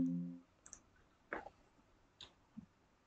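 A handful of sharp, isolated computer mouse clicks in a quiet room, spaced irregularly across a few seconds, with a brief low hum at the very start.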